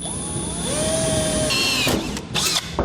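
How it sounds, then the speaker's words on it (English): A power drill with a pilot bit whines and bites into a metal frame member while installing a fifth-wheel hitch on a Ram truck, its pitch shifting as the bit pushes through, close up and loud. "you just want to go through with your pilot bit"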